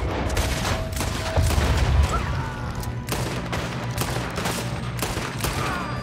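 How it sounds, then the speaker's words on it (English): Rapid gunshots in Red Dead Redemption 2, a crackling volley of sharp repeated shots with a heavy boom, loud and irregular throughout the short stretch. "Lefty gets shot."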